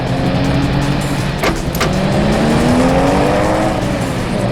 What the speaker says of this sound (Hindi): स्लो चलाओ गाड़ी सिद्धांत।